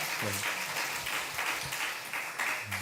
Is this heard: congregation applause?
yes